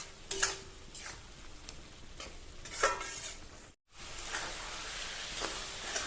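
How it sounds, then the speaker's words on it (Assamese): Spices with ginger and garlic fry in a pan, giving a faint, steady sizzle broken by a few light scrapes and taps of stirring, with one brief pause. "আৰু এইখিনি প্ৰায় ভাজি লোৱা হৈ গৈছে"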